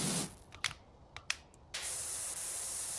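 Pressure washer spray in the video game PowerWash Simulator: a hissing jet that fades, a few short sharp bursts, then a steady loud broadband spray that holds to the end.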